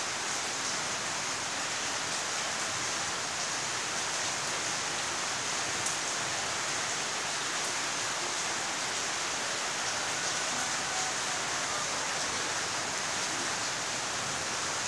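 Steady rain in Dharan, Nepal, hisses and patters continuously on surfaces, a soft even wash of sound with no voices.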